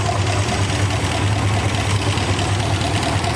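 A 1957 Dodge Sweptside D100 engine idles steadily up close, a loud, even, pulsing low rumble with a regular mechanical beat and broad hiss over it, continuous with no talk.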